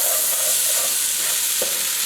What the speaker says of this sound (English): I keep coming back to mix it because I want my potatoes get a little bit brown